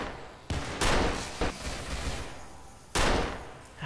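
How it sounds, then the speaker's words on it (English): Gunfire in a Gmod zombie apocalypse game: sharp bursts of shots, one near the start, a longer rattling volley, then another loud burst near the end. "Open fire!"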